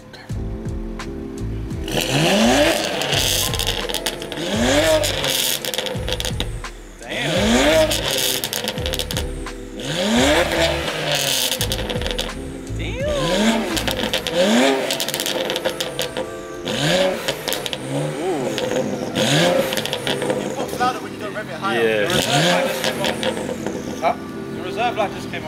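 A BMW 335i with the N54 twin-turbo engine running an FBO MHD stage 2+ tune revs repeatedly, each rising sweep climbing and falling in a steady rhythm, close and fairly loud, with people talking over parts of it.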